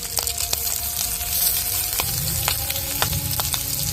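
Ground masala fries in hot oil for a chicken feet curry, a steady close sizzle dotted with sharp crackles and spits, with no voices.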